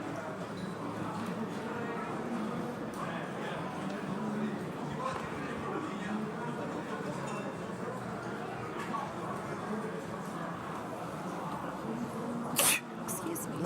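Brief sneeze-like burst near the end of a busy poker tournament hall at the WSOPE Main Event No-Limit Hold'em, rising above steady crowd murmur and commentary talk.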